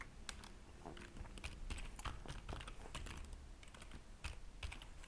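Quiet, irregular keystrokes tap on a computer keyboard in bursts, close up and with no talk.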